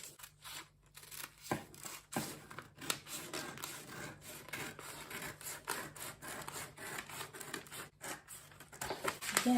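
Scissors snipping through fabric for a pencil skirt at close range, a run of quiet crisp cuts and rubbing of cloth, with faint background noise and no talking.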